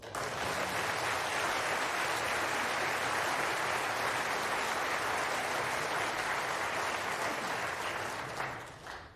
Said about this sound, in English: you can tell from the applause in the background